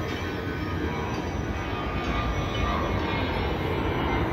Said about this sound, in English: That's the end of the train.